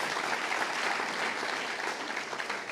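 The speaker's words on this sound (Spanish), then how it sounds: "Damos una ofrenda de palmas al Señor" Dense, steady applause from a church congregation at a Spanish-language church training conference, a close wash of many clapping hands filling the short moment with no voices on top.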